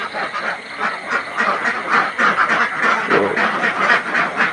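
A flock of farm ducks, sick with duck plague, quacks continuously in a loud, overlapping chorus close by, with a brief spoken word in the mix.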